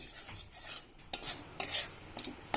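A utensil stirring thick semolina in a pan over low heat, with sharp scraping metallic clinks in short bursts separated by quieter pauses, close and fairly quiet.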